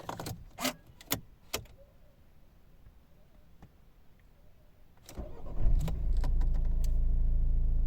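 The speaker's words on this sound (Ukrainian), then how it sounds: "Два ключі." Keys jingle in a few short metallic bursts near the start, then the 1.6 D2 diesel engine of a 2012 Volvo V50 starts up and settles into a steady low idle.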